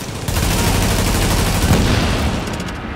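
Loud, dense gunfire in the video game Tom Clancy's The Division, with sustained overlapping bursts of rapid shots that continue without a break, close and heavy.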